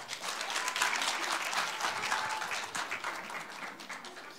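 Audience applause at a Masan University innovation results sharing event as a professor comes up to present, a dense, sustained round of clapping from a room full of people that fades slightly toward the end.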